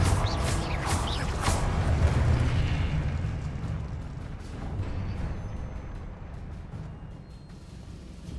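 Confringo spell blast in the video game Hogwarts Legacy: a loud booming explosion burst at the start, followed by a rumbling crackling decay that slowly fades over several seconds.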